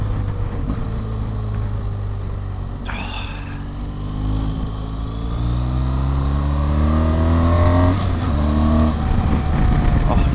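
BMW R1200 GS motorcycle ridden on the road, its engine note climbing through gears in rising pitch sweeps over steady wind rumble, close and continuous.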